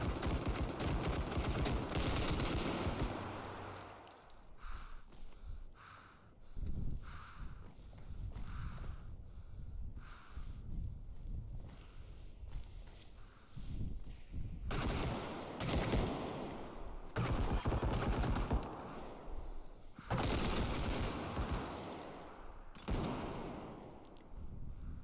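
Gunfire in a first-person video game, repeated bursts of shots in uneven clusters, loud and close, separated by quieter gaps.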